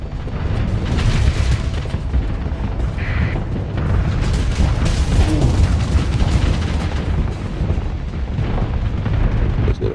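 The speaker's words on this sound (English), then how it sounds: "There's a little bombing run." Continuous rumbling explosions and booms from a bombing run in the space strategy game Starsector, dense and loud throughout with low-end blasts layered over one another and no voices.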